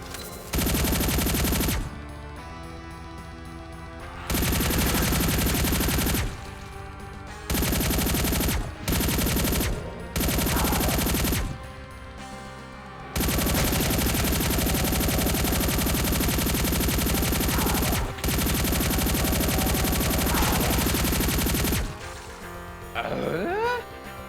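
Rapid automatic gunfire from a Doom mod video game fires in long sustained bursts with brief pauses between them, loud and dense throughout with no talking over it.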